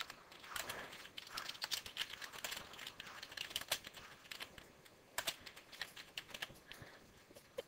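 Text is typed on a computer keyboard in quick, uneven bursts of soft clicking keystrokes, close and fairly quiet, with brief pauses between runs.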